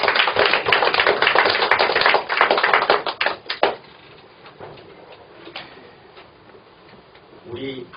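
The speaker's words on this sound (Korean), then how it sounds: "우리 모두 박수 한번 칩시다." A lecture audience claps together in a sustained burst of dense, crackling applause that runs for several seconds, then thins to a few scattered claps and fades into quiet, with a voice returning at the end.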